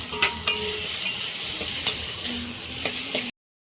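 Tomato masala fries in oil in a pan while being stirred, a close, steady sizzle punctuated by scraping spatula strokes, ending abruptly in silence.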